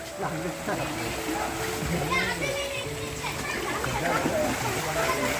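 Water splashes as someone wades across a cold, forceful flowing stream in a village in the rain, with steady rushing water beneath and voices talking over it throughout.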